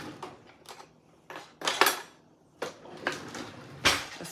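Several sharp metallic clinks and rattles of cutlery and dishes come in short separate bursts while someone fetches a spoon in a home kitchen during steak dinner cooking, fairly close with quiet gaps between.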